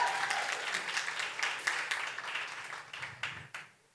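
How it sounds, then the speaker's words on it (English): An audience at a literary event claps to welcome a special guest writer, dense, lively applause at moderate volume that fades over the last second and ends in quiet. "No, you can keep clapping."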